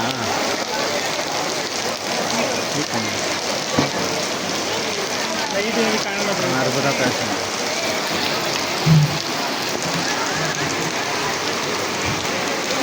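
Heavy rain pours steadily in a busy street market at Chikkapete, a dense continuous hiss with scattered nearby drips and thuds, while people talk under the downpour.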